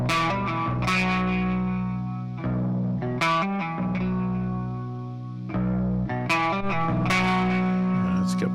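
A Decapitator distortion plugin processes a synthesized chord part in a home studio mix, producing gritty, saturated sustained tones with repeated bright attacks and a slight swell near the middle.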